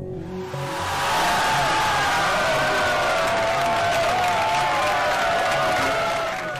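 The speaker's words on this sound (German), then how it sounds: "Jubel bei der CDU in Nordrhein-Westfalen" A CDU crowd in North Rhine-Westphalia cheers and applauds at a state election-night event; the roar swells within the first second and stays loud and sustained, with whoops rising above it.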